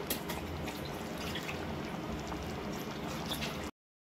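Coconut curry made with ground coconut and cumin simmers at a low, steady boil, a soft continuous bubbling and liquid hiss that stays close and faint before cutting off abruptly.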